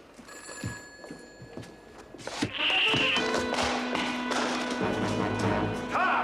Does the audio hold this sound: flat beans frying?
no